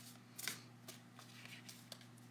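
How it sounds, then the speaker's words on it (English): Very faint tarot card shuffling: soft riffling bursts and light flicks, quiet and close, with no voices. "I'll keep shuffling then."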